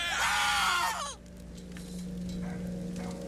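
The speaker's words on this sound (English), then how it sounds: "Why did everyone scream?" A crowd of voices screams together in BioShock Infinite, a loud, harmonically rich burst lasting about a second before dropping away, leaving a quieter game backdrop with a steady hum.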